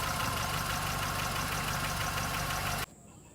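Car engine running at a steady idle up close, with a loud rhythmic mechanical clatter, then cutting off abruptly near the end.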